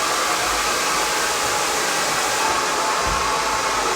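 A hair dryer blows on high heat, a loud, steady, broadband rushing roar that holds unchanged from start to finish with no voices.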